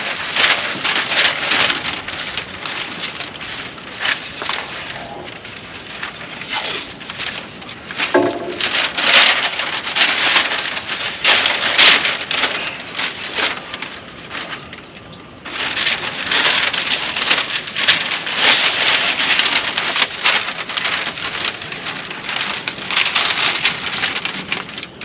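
Strong outdoor wind roars continuously at a rust repair job on a 2002 Ford F350, a dense blustery rush with a few brief dips and no talking.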